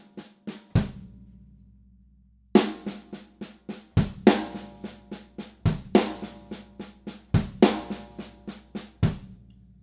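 Half-time drum groove from a six-stroke roll with the final left-hand note moved to the kick drum: sharp snare and tom strokes alternate with deep kick thumps in a steady repeating cycle, close and solo.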